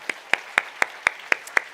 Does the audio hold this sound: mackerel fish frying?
no